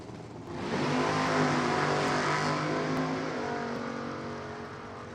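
Dan Naylor's turbocharged Hurricane Racing Engines drag car launches down the strip at an NHRA divisional race, a loud rising engine roar that swells and then fades slightly as it pulls away.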